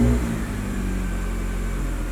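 K-swapped Honda Integra project car running with a lean air-fuel condition, its engine producing a steady humming drone with an engine tone at a sustained rev, heard close up.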